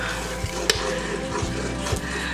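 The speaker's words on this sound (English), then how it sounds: "So I'm just gonna give the onions a mix and let that come up to a bit of a bubble." Onions stirred in a sizzling pan for a vegan mac and cheese, with a soft continuous sizzle under scraping stirs and a few light knocks of a utensil against the pan.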